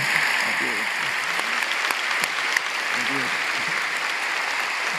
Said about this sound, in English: A big applause for Jakob Nielsen